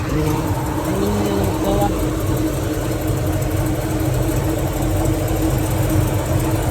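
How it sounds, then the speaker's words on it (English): Holden HJ ute engine idling roughly with a terrible misfire: a loud, steady, low rumble with an uneven, stumbling pulse, heard up close throughout. "It's got a terrible miss"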